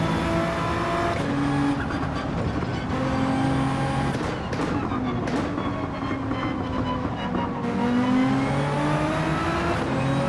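A Nissan GT-R race car in Gran Turismo 7 accelerates out of a corner, its engine droning steadily with rising and falling tones and brief gear shifts, loud and continuous, with no talk.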